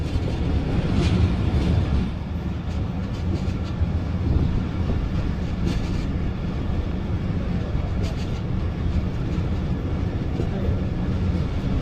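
The Khyber Mail passenger train rolls between Lahore and Sahiwal with a constant, loud low rumble and rattle of carriages heard from inside, steady throughout with light clicking over the tracks.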